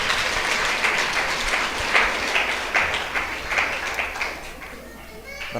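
A church congregation claps hands loudly and steadily during a Spanish-language sermon, with dense, continuous applause and scattered voices mixed in, holding strong before easing off slightly toward the end.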